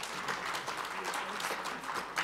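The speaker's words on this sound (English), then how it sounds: "let's give them a hands of applause for the commission" Audience applause at a summit for a commission, a dense, steady clapping from a crowd in a hall that carries through at moderate loudness.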